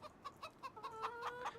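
Chickens cluck in short repeated calls in Farming Simulator 25, a steady string of near, moderately loud clucks with no talk over them.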